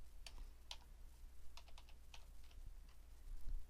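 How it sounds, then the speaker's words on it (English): A computer keyboard being typed on to enter a drawing number into an Excel data entry form: quick, close clusters of soft key clicks in an otherwise quiet room. "I'm going to type in my drawing number."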